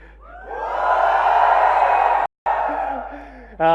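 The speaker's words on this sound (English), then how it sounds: "No, give me a flagship cheer." A large crowd of around 480 fans in a packed launch-event room for the Xiaomi Redmi K20 series cheers and whoops loudly for about two seconds, then breaks off briefly and resumes more faintly.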